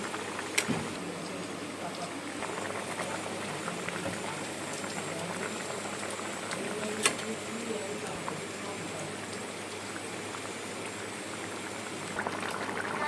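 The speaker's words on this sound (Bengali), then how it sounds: "এখন আমি আলুর ঝোলের মধ্যে ভেজে রাখা মাছগুলো দিয়ে দেবো" Potato curry simmering with fried aar fish added, giving a steady, close bubbling and sizzling hiss throughout, with a few brief clinks near the start and end.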